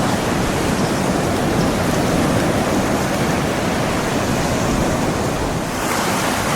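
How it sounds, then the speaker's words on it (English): Waves break on Kilfarrasy beach along the Copper Coast, a dense, steady roar of surf with wind buffeting the microphone, loud and unbroken from start to finish with no one talking. "this has to be one of the, if not the most picturesque beach along the Copper Coast"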